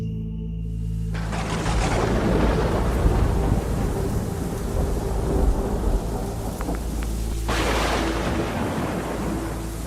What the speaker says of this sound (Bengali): কিন্তু সে ঝড় বৃষ্টি থামল না।